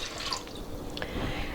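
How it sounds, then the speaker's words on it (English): Two cups of water pour into an Instant Pot, a continuous splashing, trickling stream that stays steady and close throughout. "I'm going to pour 2 cups of water into the Instant Pot"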